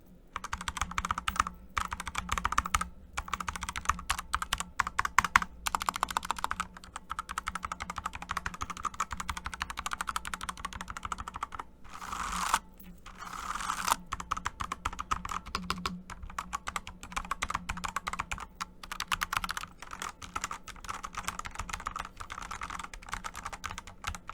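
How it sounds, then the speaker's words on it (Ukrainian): Rapid, clacky typing on a Bloody S98 mechanical keyboard continues at a steady pace with brief pauses, close and crisp, no voices. "Загальний ефект від тайпінгу мені подобається. Звук приємний."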